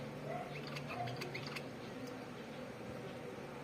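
Faint, high chirping calls from a small bird repeat a few times over a quiet background hum.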